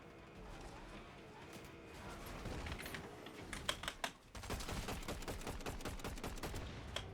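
Rapid bursts of gunfire from a video game played on an Intel Arc A750, crackling in quick strings of close shots with louder volleys toward the end.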